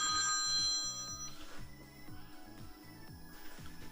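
A telephone rings in an indoor room, a repeating electronic bell pattern in quick bursts, fairly close and clear with no talk over it.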